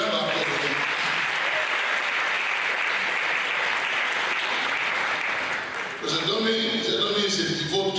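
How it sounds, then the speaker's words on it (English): A seated audience at a lecture event gives a warm, sustained round of applause. The clapping is dense and steady for several seconds, then thins out as a voice starts talking near the end. "He's a round of applause for him."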